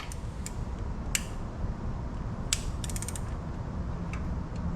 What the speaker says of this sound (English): See, now we're starting to turn the crank.